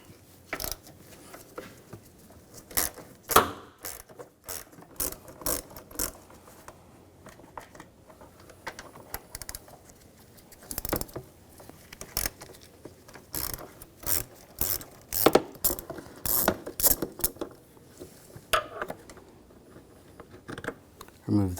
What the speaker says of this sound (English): Now we're going to take these two bolts out,